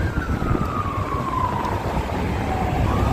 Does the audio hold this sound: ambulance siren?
yes